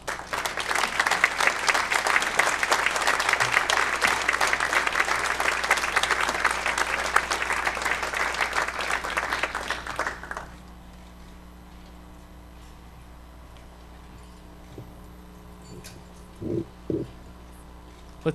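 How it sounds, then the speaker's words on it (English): A crowd at a Fairfield County, Ohio legislative update claps for Lieutenant Governor Taylor, dense steady applause for about ten seconds that stops abruptly, followed by quiet room tone with a couple of faint knocks. "Let's give Lieutenant Governor Taylor a quick round of applause again, and her staff"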